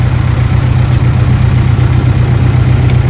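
An airport bus idles at a stop in Brunei with a steady, loud, low engine drone that holds constant throughout, with no revving.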